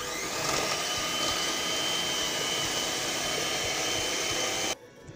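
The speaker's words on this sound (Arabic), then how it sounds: "بعد ما طربنا يعني الزبده مع زيت الكوك" An electric hand mixer beats butter with coconut oil for cheese cookie dough, a loud, even motor whir running close and constant before cutting off abruptly near the end.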